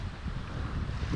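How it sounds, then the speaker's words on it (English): Wind rushing steadily on a boat out on choppy water in the Florida Keys, a constant low roar of wind buffeting the microphone, close and loud with no voices. "it's a little windy today"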